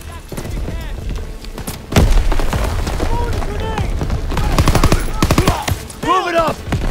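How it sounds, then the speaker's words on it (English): A grenade blast in the World War II shooter Call of Duty: WWII during the D-Day landing, a loud boom amid dense gunfire and battle noise, with soldiers shouting over the chaos. "Grenade!"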